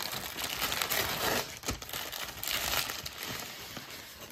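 Continuous close crinkling and crackling of bubble wrap packaging being handled, steady throughout with a brief lull partway.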